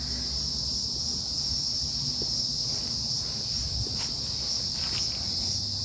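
Loud cicadas drone steadily in a Savannah cemetery, a dense, continuous high-pitched buzz filling the whole stretch with no voices over it.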